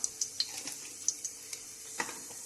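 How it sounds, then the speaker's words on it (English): A bay leaf and cumin seeds sizzle in hot vegetable oil, a soft steady frying hiss with faint scattered ticks and pops close by, fairly quiet overall. "इसके अंदर मैं डाल रही हूँ एक तेज पत्ता, और तेज पत्ता के बाद में इसमें जाएगा अबाउट 1 teaspoon ऑफ जीरा"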